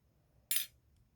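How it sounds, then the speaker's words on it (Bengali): Cutlery clinks once against a dish while a girl eats chowmein, a single short, faint metallic tap in an otherwise quiet room. "এবার আমার মেয়ে খাচ্ছে।"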